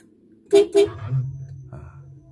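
Two short, loud car horn honks in quick succession from a 2011 Toyota Avanza type G, followed by a low engine-like hum and faint rustling.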